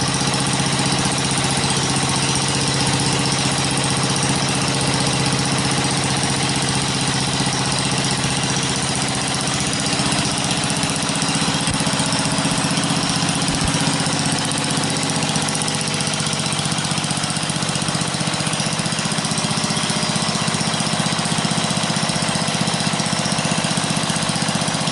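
A mint 63-year-old Briggs and Stratton engine on an RCA generator idles with no load, a loud, steady, close-up mechanical drone with even rapid firing and no breaks or talking.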